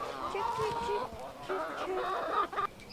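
Chickens cluck in a backyard shared with horses, steady chatter of hen calls running throughout at moderate loudness, with a brief pause mid-clip and other farmyard noise underneath.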